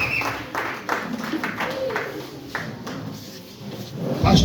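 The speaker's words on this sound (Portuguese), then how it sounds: "Aplauda para o Senhor bem forte" Church congregation applauding during a service, uneven rounds of hand claps that grow louder toward the end, with voices speaking over them.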